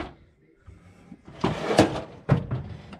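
A small-engine mechanic's shop toolbox drawer slides open and shuts, a few close rattling scrapes and knocks with short pauses between them.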